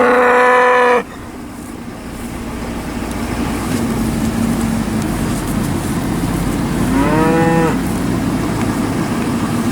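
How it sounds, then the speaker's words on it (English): Cattle in a holding pen, with two loud moos, one at the start and another later, over a steady background of engine idle and outdoor noise. "This is another group of cattle in the same holding pen at a different date."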